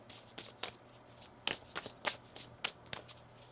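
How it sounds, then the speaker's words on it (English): Tarot cards are shuffled by hand close up in a quiet room, giving a string of quick, crisp riffles and soft slaps in an uneven rhythm. Each burst stays short and light. "One more shuffle."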